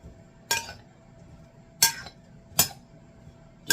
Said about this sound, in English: And we're going to get that stirred together.